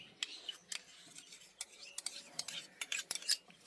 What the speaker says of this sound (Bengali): এবার ভালো করে মেখে নেব।